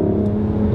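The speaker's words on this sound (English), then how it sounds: "The exhaust is absolutely fantastic." A 2019 Mercedes-AMG CLS 53 exhaust rumbles and revs at close range, a steady loud low drone with no pauses and no voices.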